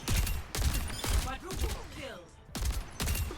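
Rapid gunfire bursts in the video game Overwatch, several short loud volleys separated by brief gaps, with faint game effects between them.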